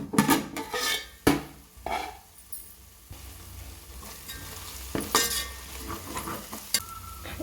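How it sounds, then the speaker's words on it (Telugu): Tomatoes cook in a pan on a low flame with a soft steady sizzle, broken by a few sharp clinks and scrapes of a spoon stirring against the pan. "రెండు నిమిషాల పాటు లో ఫ్లేమ్లో టమాటాను మగ్గనివ్వాలండి"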